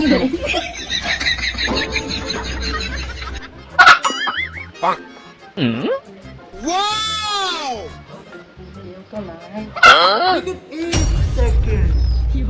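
Chickens cluck and squawk at a village home in Bangladesh, their calls mixed with people talking and laughing throughout.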